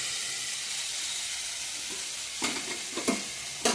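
Spices sizzle and crackle in hot oil in a pan on a home stove, a steady frying hiss with a few sharper bursts of spatter near the end as the mixture is stirred.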